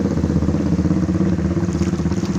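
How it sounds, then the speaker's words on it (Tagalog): A tricycle's motorcycle engine drones close by on a flooded street lined with closing shops, a steady, throbbing low rumble that stays loud and even for the whole stretch. "May tricycle o."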